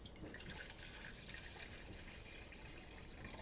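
Ten ounces of seltzer water pours into a measuring cup, a steady fizzing, bubbling hiss held at an even, quiet level throughout, with no voices.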